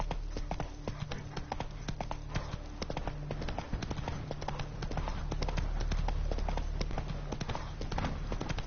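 Roach the horse's hooves clip-clop in a steady, brisk rhythm throughout in The Witcher 3, close and loud over a low droning game background.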